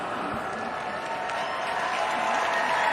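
A crowd at a dog show applauds a St. Bernard with steady, dense clapping that holds at an even, fairly loud level for a few seconds.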